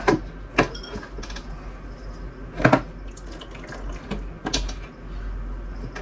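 Water draining out of a drinking-water filter housing during a three-stage filter change: a continuous close splashing gush with a few sharp knocks and clatters on top, fairly loud and with no speech.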